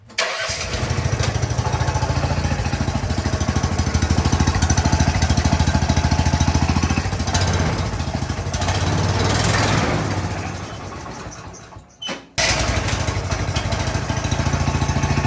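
Honda GX390 small engine on a UTV cranks, catches and runs with a loud, steady chugging drone that dips briefly near the end before picking back up again.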